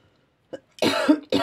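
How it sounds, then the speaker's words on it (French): A person's cough, a lingering one, comes as a short faint burst followed by a louder, rough double cough, close and alone. "J'ai encore une petite toux, hein, qui a du mal à partir"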